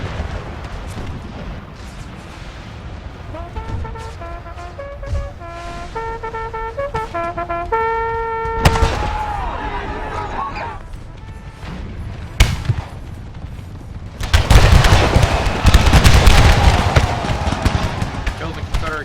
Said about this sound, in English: Oh, here it comes. Union artillery.